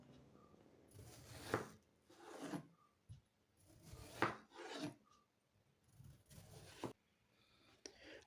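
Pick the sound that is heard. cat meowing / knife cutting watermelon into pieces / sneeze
knife cutting watermelon into pieces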